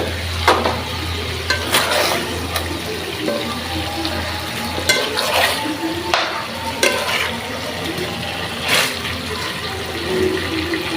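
Chicken pieces go into hot oil in a cooking pot for biryani, with sputtering frying and stirring scrapes over a steady hiss, punctuated by sharp bursts as the meat hits the oil.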